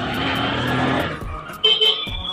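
A motorbike engine running, a rough close drone that drops away then rises with a higher whine as the revs pick up, short and alone.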